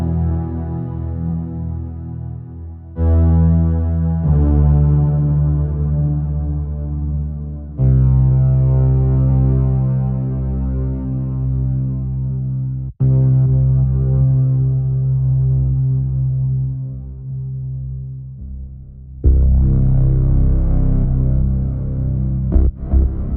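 A thick, buzzy Omnisphere synthesizer saw pad in Logic Pro X holds sustained chords, shifting to new chords every few seconds with brief cuts between them.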